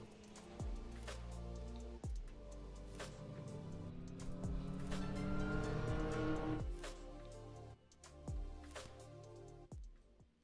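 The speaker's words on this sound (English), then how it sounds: "Cars continue to work their way around." Time attack race cars lapping Road America, a track-focused class running sequential gearboxes and 100-treadwear tires: engines rev and downshift as several cars pass, with tire squeal and rising and falling whooshes.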